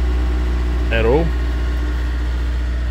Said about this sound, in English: she's revving it out